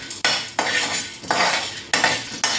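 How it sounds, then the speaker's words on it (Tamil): Roasted gram (pottukadalai) is stirred in a pan with a metal spoon, producing loud close scraping and rattling sweeps in a few separate strokes, each ending with a sharp clink, heard without talk. "இப்போ நம்ம இதில் பொரிகடலையை போட்டு லேசாக வறுத்துக்கிடுவோம்."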